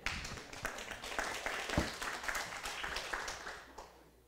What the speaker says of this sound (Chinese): 请掌声欢迎